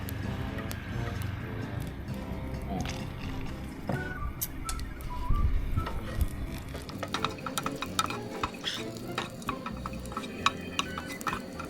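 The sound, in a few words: stir-frying garlic in a pan over medium heat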